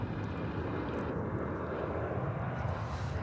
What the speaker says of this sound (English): an Airbus A321, American Airlines flight 1848